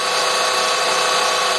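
A drill runs a tapping head held loosely in a vise, its spindle bushing slightly wobbly, giving a loud, steady, continuous high-pitched whir throughout, with no voices.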